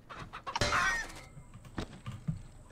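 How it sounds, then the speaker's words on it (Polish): A chicken in the horror video game Pacify lets out a sharp burst of clucking, then a few softer scattered clucks follow, fairly close and loud with no talk over it. "polowanie na kurczaka. Cicho. Kurczak już jest."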